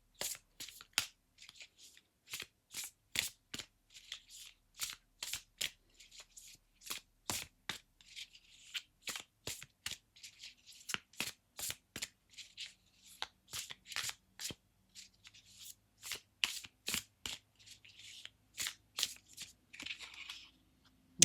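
Tarot cards being shuffled by hand in a long series of quick, soft riffling bursts with brief gaps between them, fairly close and quiet, with no talk.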